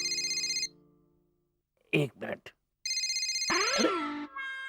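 A bright electronic ringtone trills in repeated bursts, stops while a voice speaks briefly, then resumes ringing loudly with warbling tones.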